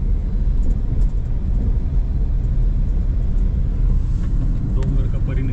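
A car drives along a mountain road, giving a continuous low engine and tyre rumble that stays steady and moderately loud throughout, with no distinct horns or passing vehicles standing out.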